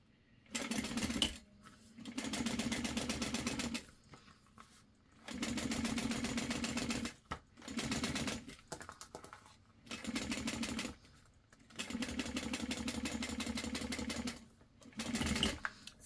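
A sewing machine stitches a run of seams on glitter shaker fabric in bursts of fast, steady whirring, several seconds long each, separated by short quiet pauses and small clicks.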